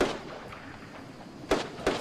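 Desert Eagle shots crack in a Fortnite 2v2 match: one sharp report at the start, then two more close together near the end, over quiet game ambience.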